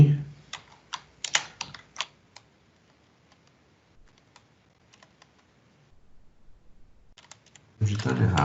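Computer keyboard keys clatter in quick bursts, fading to sparse faint taps, then a burst of louder noise at the end; talking is present nearby.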